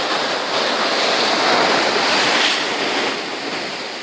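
A sea wave surges over rocks right beside the listener, a loud, dense rushing wash that holds steady and then slowly eases, with no talk.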